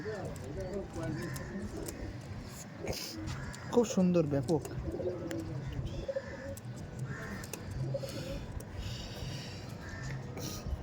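Panjabi Malbayi pigeons coo in low rolling calls, with one louder burst of cooing midway, while people talk nearby throughout.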